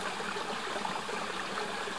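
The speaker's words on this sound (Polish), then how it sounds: "jak widzę taki potok i słyszę jego takie szemrzenie fajne" A jungle stream murmurs and trickles steadily, with water flowing close by in a continuous, even wash and no voices.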